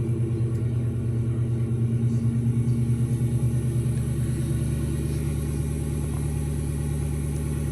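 A 2001 Ford Mustang GT V8, freshly fitted with a new timing chain, tensioners and arms, idles steadily up close with a deep, even, pulsing rumble and no talking over it.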